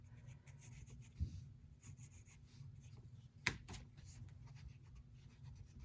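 A pencil scratches curved lines on paper in a quiet room, a soft continuous rubbing with a couple of sharper taps, close and faint, with no talking.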